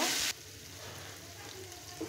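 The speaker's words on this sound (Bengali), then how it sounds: "এই পর্যায়ে আমি এখন আদা রসুন আর পেঁয়াজের পেস্টটা দিয়ে দিচ্ছি। এটাকে আমি সুন্দর করে ভেজে নেব" A paste of ginger, garlic and onion fries with beef and potato in a pan, giving a soft steady sizzle after a brief louder burst at the start.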